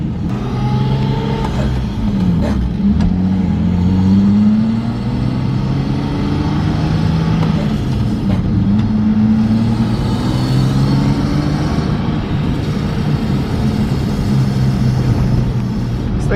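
A BMW E36 M3 engine pulls steadily while driving, a loud, continuous mid-range drone with rising and falling pitch as it accelerates, heard up close with no talking.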